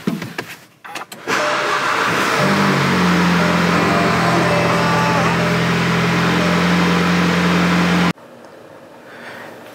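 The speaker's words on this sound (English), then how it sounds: "now to run the car and make sure the oil level is good and also there's no issues with spark" A VW Alltrack engine cranks and settles into a steady idle after its 50K service, a low even drone running for several seconds before cutting off abruptly, with brief clatter before start and quieter room sound after.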